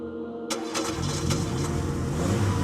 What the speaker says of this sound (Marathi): गाडी स्टार्ट केली